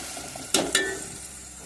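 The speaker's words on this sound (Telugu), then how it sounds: "ఇవి కలుపుకుంటూ మధ్య మధ్యలో గోల్డెన్ బ్రౌనిష్ కలర్స్ వరకు వేయించుకోవాలి." Onions and green chillies fry in a pan for a village-style cucumber curry. A faint, steady sizzle runs throughout, broken by two quick, brighter scraping stirs close together.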